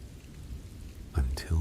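Soft, steady rain falls through a quiet night, a faint hiss throughout, with a couple of low thumps near the end.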